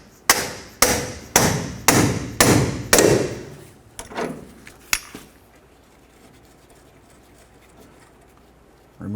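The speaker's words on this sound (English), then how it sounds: "Continue on with a pickle fork and a hammer and separate the joint." Seven sharp metallic hammer blows on a pickle fork separating a tie rod joint on a 1988-2000 Chevy C/K1500, steady rhythm, close and loud, then a few lighter taps before quiet.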